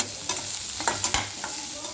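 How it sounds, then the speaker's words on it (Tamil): Onion and curry leaves frying in hot oil, stirred with a few sharp scraping strokes over a steady close sizzle; no talking. "இப்போ இந்த வெங்காயமும் இந்த கருவேப்பிலையும் இந்த எண்ணெயில் நல்லா"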